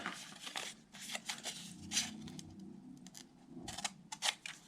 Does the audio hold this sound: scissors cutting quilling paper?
yes